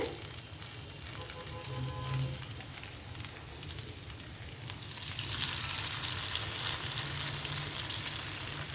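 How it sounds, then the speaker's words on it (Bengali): Potato and carrot batter fries on a tawa griddle, a steady close sizzle that swells into a louder, brighter crackle partway through, continuous and without talk. "অল্প অল্প করে আমি এটাকে তাওয়ার মধ্যে দিয়ে নেব"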